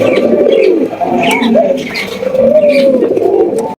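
Several big-sized pigeons coo close by, overlapping throaty calls repeating steadily with soft rustling in between.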